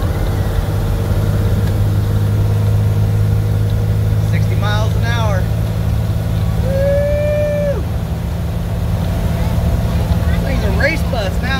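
Steady diesel drone of a bus with a 12-valve P-pump, #10 fuel plate and 3400 rpm governor springs cruising at 65 mph, heard loud from inside with constant tone, voices and brief whoops over it.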